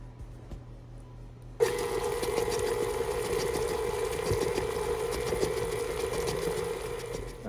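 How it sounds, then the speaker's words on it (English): An electric hand mixer starts suddenly and runs at a steady, loud whir as it beats an egg and vanilla extract into low-carb pecan chocolate chip cookie dough. "now we're going to add our 1 beaten egg and a teaspoon of vanilla extract. And we're going to beat this again as well."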